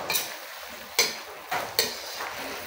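Chicken adobo with sliced potatoes being stirred in a pot, a spoon scraping and knocking against the metal in a few sharp clanks over a soft, steady sizzle.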